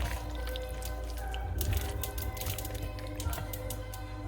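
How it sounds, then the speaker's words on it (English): Water is poured into a bowl of coconut mixture while cooking chicken korma: a short, steady splashing and trickling with a few light clinks, close and moderately loud. "I'm adding some water to the remaining coconut thing and adding that to the bowl"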